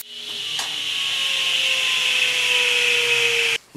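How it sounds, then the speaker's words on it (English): A table saw blade rising up through a zero clearance insert gives a loud, steady whine with a rasping cut. It holds for about three and a half seconds, then cuts off abruptly. "I should be able to raise the saw all the way up, all the way back down"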